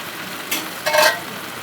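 Potato and papaya pieces drop into a pan of sizzling Bengali chicken curry, giving two short bursts of frying hiss over a steady low sizzle, with no voices.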